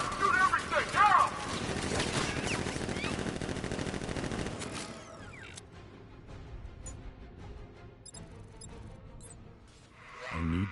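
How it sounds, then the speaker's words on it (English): Sustained bursts of automatic gunfire from militia guards in Batman: Arkham Knight, loud and dense at first, then thinning into scattered shots and game noise before a final swell. "Guard! Open fire! Shoot everything!"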